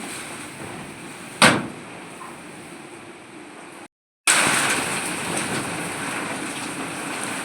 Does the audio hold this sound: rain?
yes